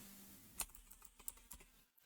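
Quiet keystrokes on a computer keyboard as a search term is typed into a web browser, a sparse run of soft clicks with irregular gaps, close and alone.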